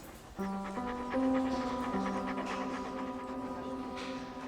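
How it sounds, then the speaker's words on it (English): Dog panting with quick rhythmic breaths up close, set against a steady tonal hum with stepped harmonic notes running underneath throughout. "She's a lovely dog."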